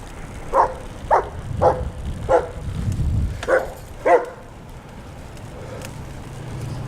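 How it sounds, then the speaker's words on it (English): A dog barks six times in a steady series of sharp, mid-loud barks outdoors, each bark clearly separated, over a low rumble of background noise. "There's a dog up here."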